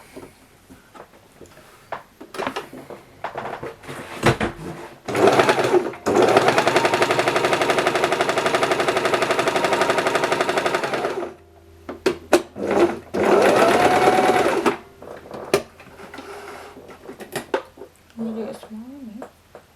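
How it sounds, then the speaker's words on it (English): Sewing machine stitching fabric for a tiny pillow: loud, steady mechanical whirring runs in two long bursts separated by shorter starts and stops, with a person talking between them. "And you sew it."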